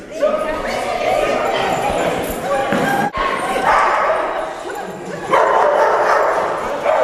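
Puppies bark and yip excitedly in a chaotic chorus during an obedience training session, loud and continuous across the clip, with a trainer's voice speaking intermittently underneath.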